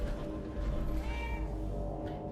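A cat meows in Fallout 4, a short drawn-out call with rising and falling pitch over steady game ambience and background music, no talk.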